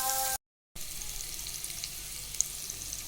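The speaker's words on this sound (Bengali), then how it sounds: "আমি এভাবে আলুগুলো সুন্দর করে ভাজবো" Boiled potatoes fry in hot oil with a steady, close sizzle and faint crackles after a brief cut to silence near the start.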